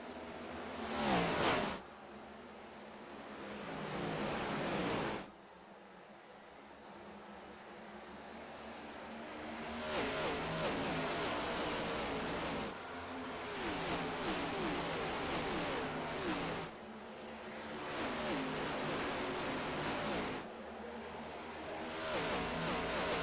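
Race cars roar away from the restart at Dover in a racing video game, engines revving in long loud surges broken by brief drops, with steady engine noise continuing between them.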